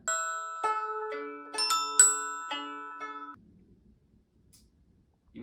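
Small bells chime in a bright cluster of overlapping strikes during a theatre performance, ringing and sustaining together before fading into near silence.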